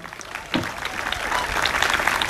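A crowd at a Juneteenth gathering breaks into applause for a speaker, beginning with scattered claps that quickly swell into full, sustained clapping.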